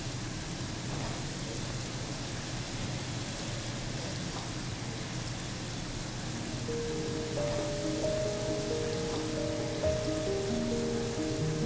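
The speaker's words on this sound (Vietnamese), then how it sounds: "Mình chiên trên lửa vừa." A steady, soft sizzle of Vietnamese sesame dough balls frying in oil over medium heat, continuous hiss with occasional faint pops and a few tonal squeaks near the end.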